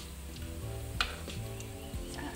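Sweet potato cakes (kue ubi goreng) frying in hot oil give a steady close sizzle, with a few louder knocks and scrapes as they are stirred or turned.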